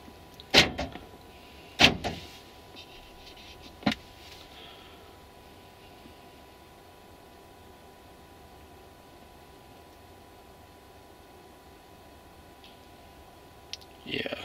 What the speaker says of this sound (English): Let me see if I close the door and run this test again